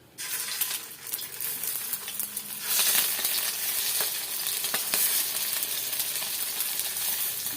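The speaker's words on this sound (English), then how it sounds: "I'm going to saute the bottom of the dumpling" Chicken dumplings sauté in a hot pan, giving a steady close hissing sizzle with crackling pops that swells louder partway through and continues throughout without speech.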